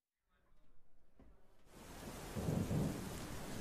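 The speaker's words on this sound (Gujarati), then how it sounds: "ભિલોડામાં ધોધમાર વરસાદ વરસ્યો છે" Heavy downpour with thunder in Bhiloda, Aravalli: a low rumble rolls in and builds into a dense, steady roar of pouring rain, continuous and close with no voices.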